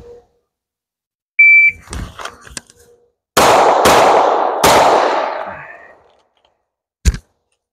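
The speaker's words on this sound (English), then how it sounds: "We're gonna draw, double tap here, and go over here and put one in the A zone." A Glock 19X pistol fires a quick double tap, then after a short pause a third shot at steel targets, each loud crack trailing off in a brief ring, with a single later shot near the end.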